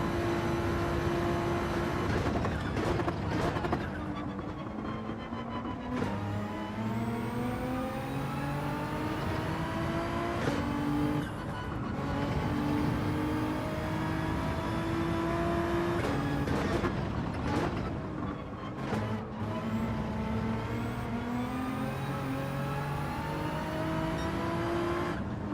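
A race car lapping on hard tyres in Gran Turismo 7 during a manufacturer practice session, its engine note climbing and dropping through repeated gear changes, steady and loud throughout with no talk.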